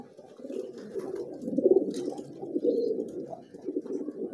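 Homing pigeons coo close by in soft, low, throaty murmurs that repeat steadily for a few seconds, with no other sounds around them.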